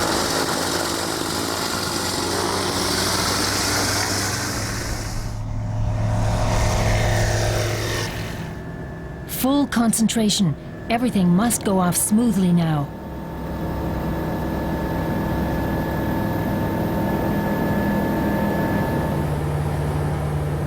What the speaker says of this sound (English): The new engine is purring along just as hoped.